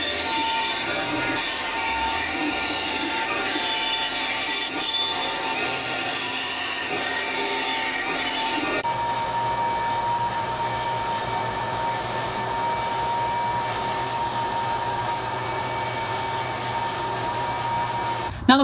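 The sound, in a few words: bandsaw cutting out a wooden circle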